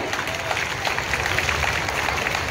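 Students clapping at an outdoor school annual sports event on the grounds, a continuous scattered patter of applause from a crowd at moderate loudness.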